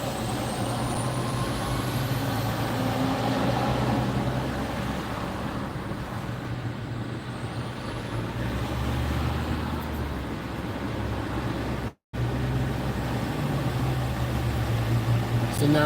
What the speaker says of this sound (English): I let down the window so you can listen to get a sense of the energy of the traffic